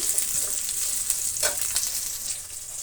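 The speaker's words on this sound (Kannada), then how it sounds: "ಈರುಳ್ಳಿ ಫ್ರೈ ಆಗ್ತಾ ಇರಲಿ." Onion frying in a pan for gobi manchurian fried rice gives a steady close sizzle with a faint crackle, heard alone without talk.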